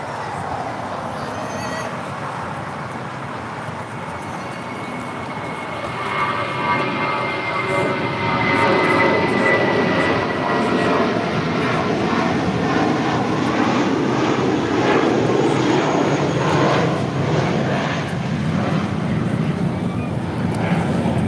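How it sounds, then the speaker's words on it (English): Spirit Airlines Airbus A320 taking off at LAX, a steady broadband jet roar that swells after a few seconds and holds loud and continuous, with wind buffeting the microphone. "This is Spirit Airlines 472 taking off to Memphis, Tennessee on an A320"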